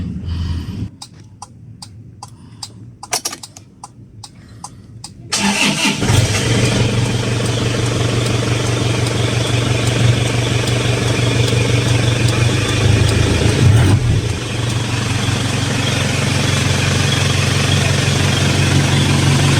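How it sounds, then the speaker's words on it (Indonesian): An Isuzu Panther diesel car cranks with a few rapid clicks and short bursts, then its engine catches about five seconds in. It settles into a steady, close, low diesel idle with a brief dip midway. "Oke, kita akan coba hidupkan mobilnya ya teman-teman"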